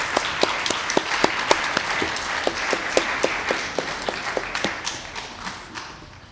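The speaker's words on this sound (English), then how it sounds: "Let's give them a round of applause." Board of education members and audience clap for in-house tradesmen at a regular meeting, a moderately sized round of applause with distinct sharp claps standing out from the steady patter, fading toward the end.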